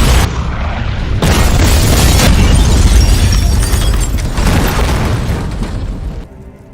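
Loud, sustained explosion at a gas station in a Jason Statham action film, a heavy booming roar that rumbles on for several seconds before cutting off abruptly.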